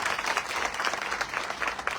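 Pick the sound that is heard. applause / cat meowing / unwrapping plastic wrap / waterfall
applause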